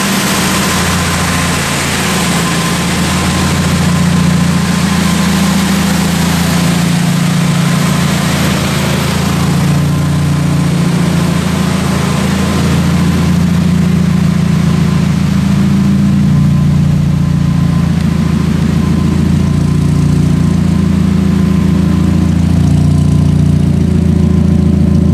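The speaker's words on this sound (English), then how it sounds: "get to hear this thing running like crazy and making supercharger sounds and a really loud exhaust" A supercharged Chevrolet Cobalt SS running on E85 fuel on a dyno, steady up close, a deep droning exhaust rumble with a constant hum, no talking, holding loud for the whole stretch.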